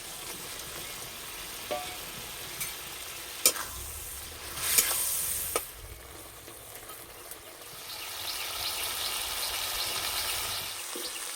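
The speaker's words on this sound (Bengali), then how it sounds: "এবার মশলা বাটা জলটা দিয়ে দেবো। এবার ভেজে রাখা মাছটা দিয়ে দেবো।" Fried bata fish simmering in a wok with ground spice paste and water, a steady close sizzle with a few sharp spatula clicks and taps midway, the bubbling growing fuller toward the end, no voices.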